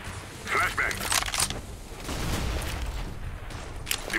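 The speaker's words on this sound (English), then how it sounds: "Deploying flashbang." Flashbang grenade going off in the shooter game CS:GO, a sharp crack followed by a ringing burst and a trailing hiss, with game effects and a voice in the mix.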